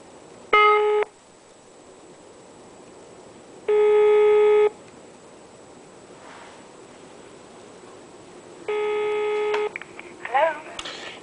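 A telephone line plays three separate electronic tone bursts, each lasting about half a second to a second, spaced several seconds apart over a quiet hiss while a call is being processed.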